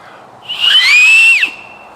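A whistle blown from an acorn cap gives one loud, shrill tone of about a second that slides slightly, rises, then cuts off sharply, close and alone.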